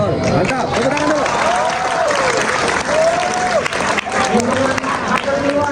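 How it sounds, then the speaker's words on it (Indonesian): Audience applause at a school event at SMANSA Bengkalis, loud, dense clapping from a large crowd that holds steady throughout, with chattering voices and a tonal sound weaving through it. "Tepuk tangan dulu."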